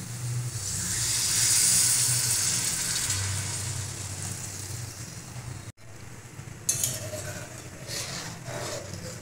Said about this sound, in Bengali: এখন আমি এতে গরম জল দেব